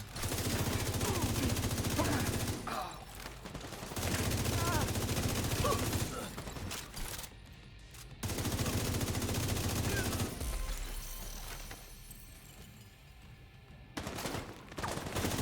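Sustained bursts of automatic gunfire fill a video game mission, with loud sprays in the opening seconds and around four and eight seconds, dropping to quieter shooting and background game noise before picking up again near the end.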